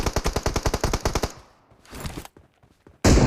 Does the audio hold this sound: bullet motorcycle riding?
no